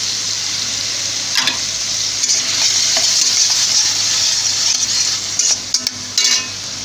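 Ground sesame paste goes into a pan of cooking shrimp with green chilies and a little water, producing a continuous sizzle with scraping spoon strokes and a few clinks of utensil against the pan near the end.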